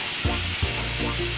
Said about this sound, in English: do you hear that sizzling? We know that our grill is nice and hot.